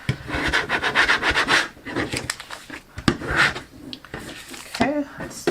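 A scraper rubs a vinyl decal onto a pumpkin with quick back-and-forth rasping strokes, loud and close, broken by brief pauses and a soft knock.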